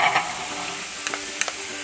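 Spices sizzling in a pan with poppy seed paste for a Bengali banana flower dish, a soft steady frying hiss close by, with a few faint stirring clicks.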